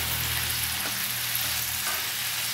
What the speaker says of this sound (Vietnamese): Thịt bò thì mình xào cho nó săn lại như thế này thôi.